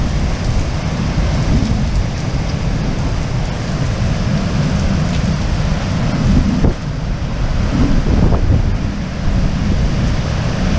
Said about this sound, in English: This storm just developed right over Casa Grande in just a matter of minutes.